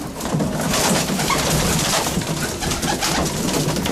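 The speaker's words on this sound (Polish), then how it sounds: "Jest drugi jest gołąb." Racing pigeons coo softly amid dense, noisy background clutter, the low rolling calls repeating throughout without pause.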